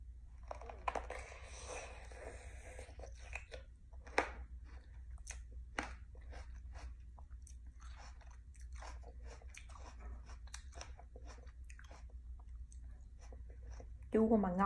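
Crisp bites and chewing on a fresh thù lù fruit, a series of sharp crunchy clicks through the first half, closer and slightly louder, with a voice speaking briefly near the end.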